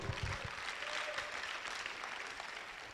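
A church congregation claps for the Lord at a sermon, a soft, steady patter of hands throughout, somewhat distant and faint.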